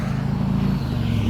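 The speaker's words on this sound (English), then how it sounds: "A lot of traffic right along here." Road traffic passes close by, a loud, steady low rumble of vehicles along a roadway with no voices.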